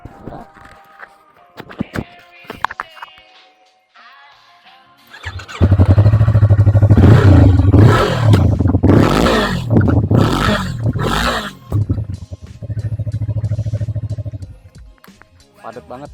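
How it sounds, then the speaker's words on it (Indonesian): A 2021 Yamaha MT-25 roars to life and revs loudly nearby, its exhaust sounding dense and full through several throttle blips before settling to a steady idle, with some talk and handling noise heard before the engine starts. "suara knalpotnya kayak gimana"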